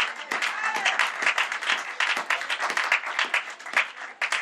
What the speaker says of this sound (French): Avec beaucoup de vivacité, s'il vous plaît, on acclame la parole du Seigneur